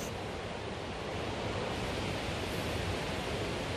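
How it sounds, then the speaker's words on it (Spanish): A river's rushing water, loud and close, forms a steady broadband roar that holds evenly throughout with no talk over it. "¡Agua a la vista! ¡Río a la vista!"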